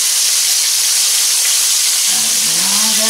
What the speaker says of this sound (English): I did put lard in and let it melt before I put the bacon in.